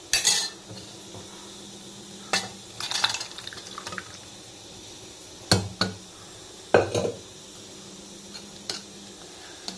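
Chickpea curry (sundal kuzhambu) scooped from a pot into a bowl, with sharp metal spoon clinks and scrapes against the vessel at irregular intervals over a quiet background.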